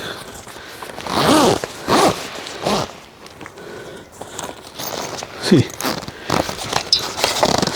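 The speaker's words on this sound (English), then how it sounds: "use the whole zipper and then take this and hook it wherever the hooks are there" A tent zipper is pulled in a few quick rasping strokes close by, with brief pauses between pulls and a voice faintly in the background, during a camping setup on a modified Suzuki Jimny.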